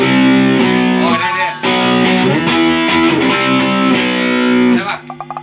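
A heavily distorted electric guitar, played through a distortion pedal, rings out loud, sustained chords with a gritty overdriven tone, then cuts off near the end into a few short choppy strums.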